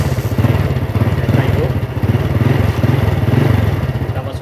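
A faulty Honda motorcycle that had stopped running has its engine revved up close, giving a loud, steady throbbing putter with slight swells in pace.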